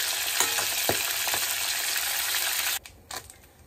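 Steady, loud sizzling of aar and tangra fish frying in hot oil, with a few soft clinks, then the sizzle drops away abruptly near the end.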